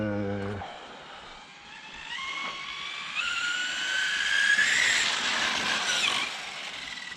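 An FG 4x2 8s large-scale RC car running on a track on X1 P1 tyres, its small engine whining and rising in pitch as it accelerates, moderately close and steady for several seconds, with no talking.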